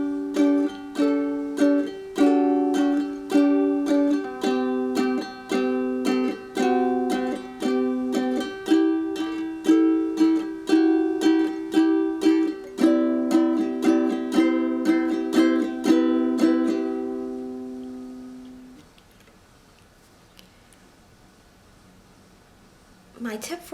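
Solo ukulele playing section C of a song, steady strummed and plucked chords with clear repeated attacks, ringing out and fading into near silence at the end.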